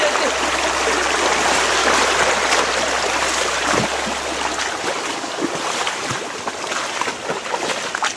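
Water pouring at Palakondallu waterfalls in Kadapa, a steady loud rushing wash that fills the air without pause, heard from close by near a cave.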